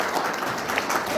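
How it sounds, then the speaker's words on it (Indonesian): A seminar audience claps in a brief, steady burst of applause that fills the room evenly from start to finish. "Tepuk tangan lagi buat panjenengan"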